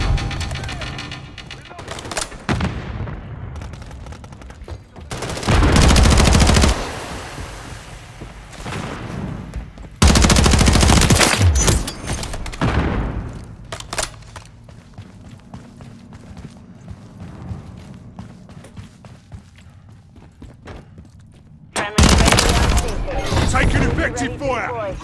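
Bursts of loud gunfire and blasts erupt during a Call of Duty: Modern Warfare III multiplayer match, arriving in several heavy clusters separated by quieter stretches with game voices and effects.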